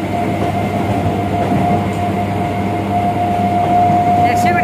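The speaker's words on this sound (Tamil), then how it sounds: "இப்போ வந்து லோக்கல் ட்ரெயினில் போயிட்டுருக்கோம்." A local train in motion heard from inside a carriage, with a continuous rumbling roll, steady rail noise and a faint high whine throughout, loud and close, ending with a brief squeal.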